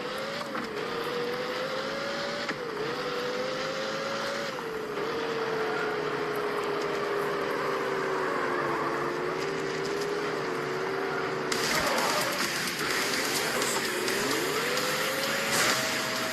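Car engines drone continuously in a Destruction Derby 3 demolition derby, a steady revving tone rising and dipping with gear shifts, loud and close throughout, with a harsher burst of noise near the end.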